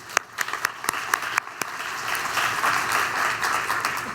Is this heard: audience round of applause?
yes